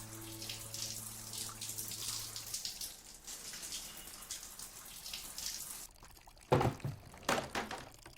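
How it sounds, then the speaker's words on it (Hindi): Tap water runs steadily into containers at home in a continuous close pour, with a few sharper splashes and clatters near the end. "मॉम, आप इतना पानी क्यों भर रही हैं?"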